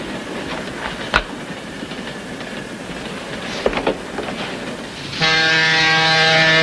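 A train rumbles along the rails with occasional sharp clacks, then the sound shifts to a steady, louder tonal hum as it continues moving.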